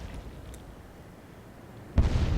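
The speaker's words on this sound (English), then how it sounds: "And a few explosions on the Prinz Eugen." A shell explosion strikes the German cruiser Prinz Eugen in the naval game Atlantic Fleet: a low, quiet battle rumble, then one sudden loud burst that booms on at the end.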